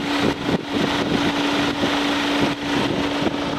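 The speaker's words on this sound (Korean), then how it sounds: "제 엔진 소리를 한번 들려드리겠습니다." Diesel engine of a fourth-generation Kia Carnival with about 30,000 km, idling and heard from outside at the seaside, a steady low hum with a faint constant whine and wind-like background noise throughout.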